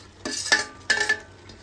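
Fried onions being stirred into pasta in a pan, with several short scraping, sizzling strokes in close succession and quiet pauses in between.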